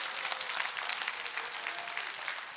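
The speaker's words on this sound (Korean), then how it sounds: "우리 하나님께 영광의 박수 올립니다" A church congregation at a healing service applauds to give glory to God, a dense, even burst of many hands clapping, close and sustained with no talk.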